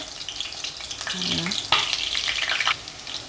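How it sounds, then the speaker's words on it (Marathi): Chopped garlic cloves and green onion sizzle and crackle in a hot pan for veg fried rice, a steady close frying hiss with a few louder spits and a stir partway through. "सात आठ लसणीच्या पाकळ्या चॉप करून घेतलेल्या ना त्या घालून घ्यायच्या"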